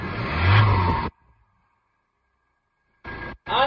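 A 2008 Ford Transit van engine, cold and flood-damaged, revs loudly for about a second, then cuts out into near silence before two more short bursts of engine noise rise toward the end.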